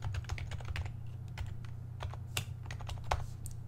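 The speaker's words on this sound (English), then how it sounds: "You just type this code." Close-up typing of Java code on a computer keyboard, a quick irregular patter of key clicks with brief pauses, no voices.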